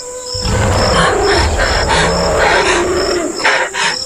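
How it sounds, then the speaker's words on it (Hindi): A wild bear in a forest growls and roars in a sustained, loud run of rough, throaty bursts, close by and alone, with no talk over it. "इधर जंगल में थोड़ी देर बाद पास ही से एक जंगली भालू की आवाज आई।"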